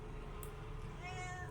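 A cat meows a few times, fairly faint and somewhat distant, over a low steady background hum, with no talking.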